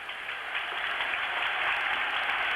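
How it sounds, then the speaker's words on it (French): Crowd applause in an ice hockey arena during a 1985 world championship game between Czechoslovakia and the USA, a steady, fairly distant roar of clapping that holds evenly throughout. "Le public applaudit son équipe."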